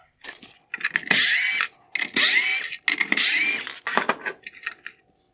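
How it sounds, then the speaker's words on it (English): A power driver removes three T20 screws from the rear of a 2018–2022 Tesla Model 3 inner reverse tail light, several short, close whirring bursts with brief pauses between them. "I will begin by removing the 3 T20 screws from the rear of the light."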